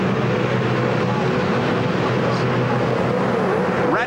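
V8 Supercars engines build revs together on the grid at the start of a 2001 championship race at Barbagallo Raceway, a loud continuous roar that holds steady throughout.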